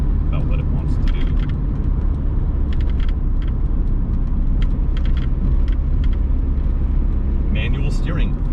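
A 1982 BMW E21 320is with manual steering drives along, its steady engine and road rumble loud and continuous throughout, with occasional faint rattles and clicks inside the cabin.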